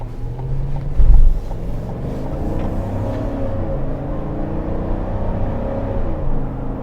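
A 2021 GMC Yukon XL AT4 with its 5.3-liter engine accelerates on the road, a steady low drone and rumble with a brief louder swell near the start, mixed with wind and road noise.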